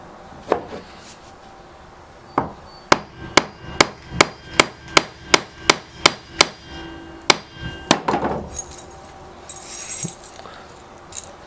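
A stop button is hammered onto the end of a cable restraint: about a dozen sharp, ringing metal strikes land in an even rhythm, close and loud, followed by some looser clattering.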